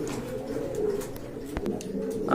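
Pigeons kept for sale at a pet market coo softly in low, rolling calls, fairly close, with light background rustle and a few sharp clicks.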